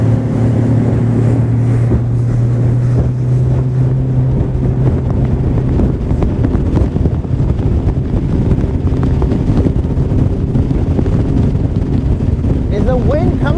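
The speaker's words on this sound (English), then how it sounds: "the wind coming from a different direction over here?" Wind buffets the microphone out on a bass fishing boat on open water, a loud, constant rumbling roar that lasts throughout, with a boat engine hum and voices faintly mixed in.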